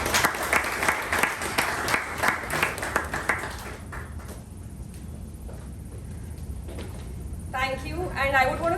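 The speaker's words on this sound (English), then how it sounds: "let's welcome our VPM Toastmaster Sharanye with a thunderous round of applause" A round of applause at a Toastmasters club meeting welcomes the VPM toastmaster, loud dense clapping for a few seconds that fades to scattered claps and room noise, with talk beginning near the end.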